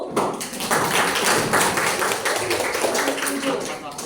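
Classroom students clapping together in agreement, a dense burst of many hands sustained for about four seconds at steady loudness, with voices mixed in.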